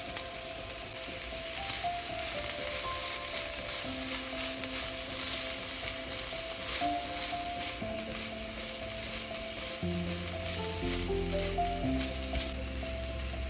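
Food with tomato paste is stirred in a hot pan over a constant, close sizzling fry, with soft scraping of the stirring under steady background music.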